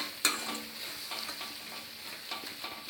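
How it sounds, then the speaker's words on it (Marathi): Carrot halwa with cardamom powder being stirred and sautéed in a pan, a steady soft sizzle with scraping spoon strokes and a sharp clink near the start, close and continuous. "हे आता व्यवस्थित परतून घेऊया"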